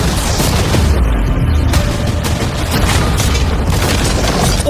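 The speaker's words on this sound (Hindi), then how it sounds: "अब हम तुम्हारी नई यॉट पर कैनन्स को शूट करने वाले हैं" Cannons firing at a new yacht, a dense run of heavy booms and crashing impacts rolling together loudly and continuously with no pause, close and harsh.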